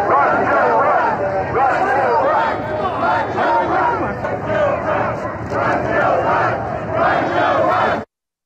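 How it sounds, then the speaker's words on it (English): A large crowd at a Labor Day event in Pittsburgh cheers and chants loudly to greet Joe Biden, a dense, continuous roar of voices that holds steady for several seconds before cutting off. "A Labor Day event in Pittsburgh, Vice President Joe Biden greeted by the crowd"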